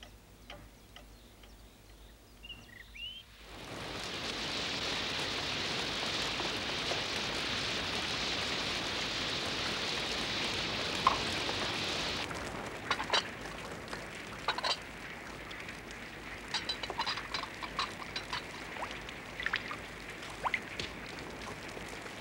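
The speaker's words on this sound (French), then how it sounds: "Cesse de regarder tomber la pluie." Steady rain falls in a scene from the animated series Anne of Green Gables, a broad even hiss that starts abruptly after a few seconds of quiet, later giving way to scattered ticking drips.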